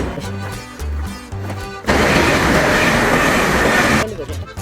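An Elizabeth line train at a London station: a loud, steady rush of train noise fills the middle of the clip, with rhythmic rumbling and rail sounds before and after.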